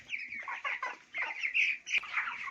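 Chickens cluck busily at close range while pecking at a feed mix of carrots and potatoes, a burst of overlapping short calls with no voices.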